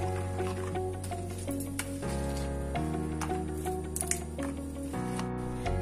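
Pineapple being stirred into a bowl of yogurt raita gives soft, wet squishing and dripping sounds, close and fairly quiet, under steady background music.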